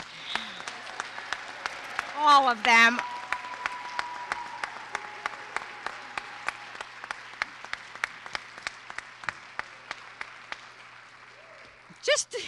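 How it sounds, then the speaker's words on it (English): An audience at a performing arts competition claps in a light, scattered way, individual claps popping steadily for about twelve seconds while a voice speaks briefly near the start and again at the end. "they deserve another round of applause"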